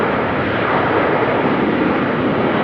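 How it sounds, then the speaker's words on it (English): Steady, broad engine roar of a Cathay airliner taking off at Amsterdam Schiphol, unbroken for the whole stretch and moderately loud with no talk. "Cathay Airways is taking off."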